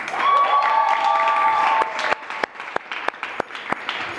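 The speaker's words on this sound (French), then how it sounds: "Faut applaudir pour elle." At Mother Mary International School, a high sustained whistle or cheer opens the moment, then a handful of students clap in a sparse, uneven spatter of separate claps close by.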